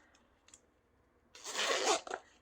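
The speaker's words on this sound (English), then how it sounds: "You simply fold it back up, bring in the bottom, and then you can zipper it up" A zipper closing a folding art supply case, a few faint handling clicks, then one close, quick rasping zip followed by a short tug.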